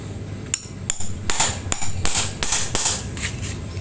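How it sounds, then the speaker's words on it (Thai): Metal hammer blows drive a seal into a Spark 135 water pump, roughly eight sharp, close, ringing strikes in a steady rhythm over a noisy workshop background. "ตอกเสมอขอบ"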